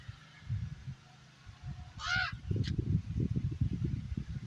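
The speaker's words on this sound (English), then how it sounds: "That crow agrees." A crow caws outdoors near Swan Falls in Idaho, a short harsh call or two heard once, fairly close, over steady low rumbling background noise.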